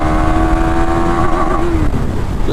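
A KTM Duke 390 Gen 2 motorcycle with ride-by-wire throttle revs loudly up close, its engine note rising and falling before dropping off, with no talking.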